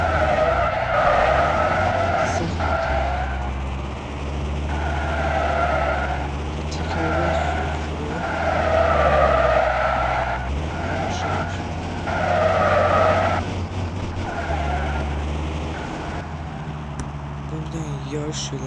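Car drifting on a city street, its tires skidding and squealing in repeated long surges over a steady engine roar, loud and close, with a voice talking underneath.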